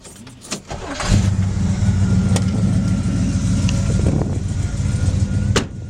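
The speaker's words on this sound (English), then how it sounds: "I'm going to crank it up again. I just love hearing that big V8 rumble." A 1968 Chevelle SS 396 V8 cranks over and settles into a loud, steady, deep rumbling idle that holds close and continuous for several seconds.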